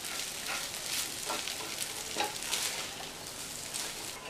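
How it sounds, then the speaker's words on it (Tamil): Egg Maggi noodles being stirred with masala in a pan, giving a steady soft sizzle with faint scraping strokes throughout, fairly quiet and with no voices. "மேகி முட்டை மசாலா எல்லாம் ஒன்று சேர்கிற மாதிரி நல்லா கலந்து விட்டாச்சு"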